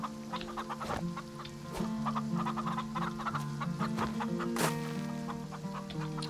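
Chickens cluck in a pen in the farming video game Farm Together, with repeated short clucks over steady game background music and no talking.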